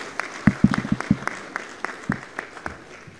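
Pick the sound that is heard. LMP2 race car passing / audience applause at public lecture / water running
audience applause at public lecture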